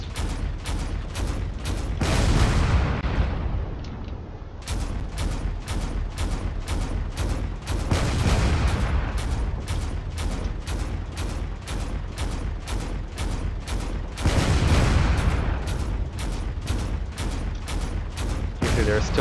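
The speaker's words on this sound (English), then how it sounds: "Those cannons are doing everything they can." Rapid volleys of cannon fire in a video game space battle, sharp repeated blasts in dense bursts with brief pauses, loud and continuous over a rumbling low background.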